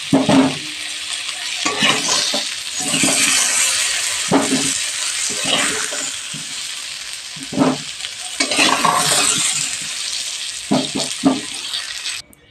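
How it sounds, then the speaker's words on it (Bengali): Potatoes frying in a kadai, a close hiss of sizzling oil broken by repeated scraping and clinking of a spatula stirring them, the strokes coming in irregular bursts. "আলুটা আরেকটু ভাজা ভাজা হবে।"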